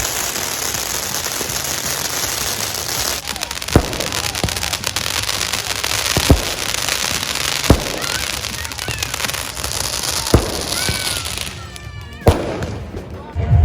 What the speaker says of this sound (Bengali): এই দেখো আতশবাজি ফাটছে নিউ ইয়ারে।